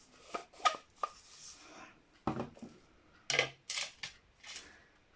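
A lid is fitted back onto a craft container: a series of light plastic clicks, taps and scrapes close by, irregular and quiet, with short pauses between the handling sounds.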